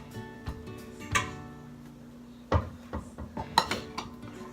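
A ceramic crème caramel ramekin is handled and flipped onto a plate, giving several scattered clinks and knocks of dish against dish, with one heavier clunk midway and lighter taps following, close and fairly quiet.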